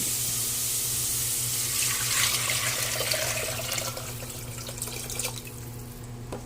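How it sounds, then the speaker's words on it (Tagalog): Kitchen tap runs steadily into a pot being filled with water for cooking chicken macaroni, a continuous close splashing hiss that shifts slightly in tone as the level rises, with a faint background hum. "Then, lalagyan na natin ng tubig."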